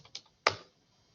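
A few soft keyboard taps followed by one sharper key press on a computer keyboard, brief and close in a quiet room.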